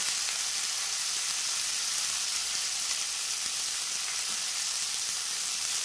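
Water spinach (kolmi shaak) seasoned with salt, turmeric powder and torn green chillies sizzles steadily in a pan while being stirred, a continuous close frying hiss with no talking.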